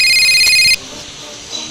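In the GTA 5 video game, a phone rings with a loud electronic ringtone for under a second, then cuts off, leaving quiet background hum.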